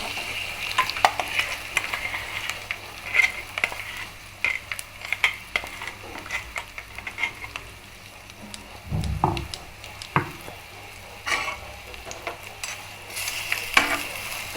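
A ground paste sizzles in hot oil as it is stirred in a pan for a peanut garlic rice, with a steady fry hiss and scraping spoon strokes and occasional utensil clinks up close.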